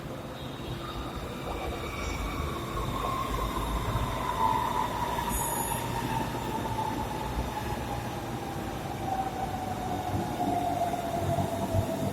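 A Bangkok MRT Yellow Line train runs along an elevated track, a steady loud rumble with a long rising and falling wheel squeal and whine over it, close by and continuous with no talking.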